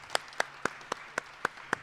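Seven sharp, evenly spaced hand claps, about one every quarter second, from a sparse audience after a TEDx talk at West Chester University, fairly faint in a quiet room.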